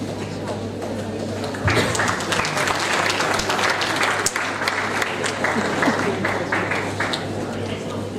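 Audience applause at a national college conference honoring the Vice Chancellor on stage, a dense steady crowd clapping that swells louder after a couple of seconds and carries on throughout, with a low hum underneath.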